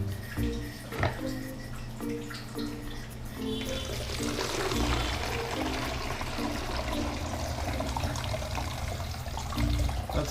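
Water streams from a tap into a 500 ml measuring cup, a steady rushing pour that builds and keeps going over a low background hum.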